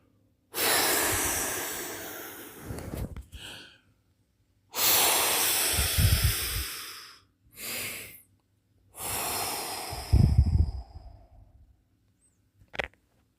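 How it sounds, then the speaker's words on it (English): Slow, deep breaths are clearly audible during a guided breathing practice: three long airy inhale and exhale cycles, then a shorter breath and a brief sharp sniff, close and alone. "Continue to follow my audible breathing patterns."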